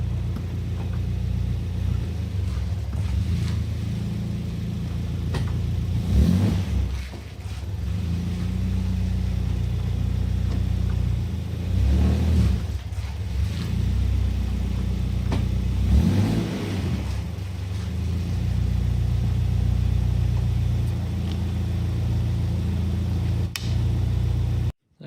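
A Caterham car's engine rumbles steadily on a clutch test drive, moving forward and in reverse, with a few swelling revs rising and falling over the drone; no speech.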